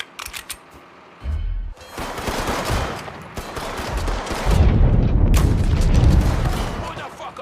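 Heavy gunfire in Mafia 3 Definitive Edition: a dense, sustained fusillade of shots and booming blasts that swells louder toward the end, with shouting voices mixed in.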